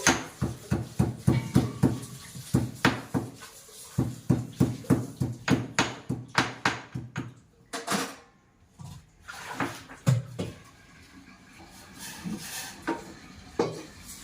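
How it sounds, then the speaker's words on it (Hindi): Steady, rhythmic pounding of ginger in a mortar, many sharp thuds in quick succession, then pauses and scattered softer knocks and clinks. "अदरक कूट देती हूँ।"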